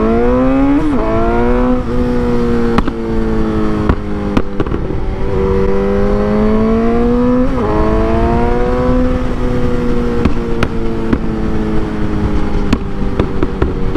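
A catless Suzuki GSX-S 750 motorcycle rides away from a gas station, its loud raw exhaust droning and rising through several throttle pulls and gear changes, close and sustained throughout, with no talking.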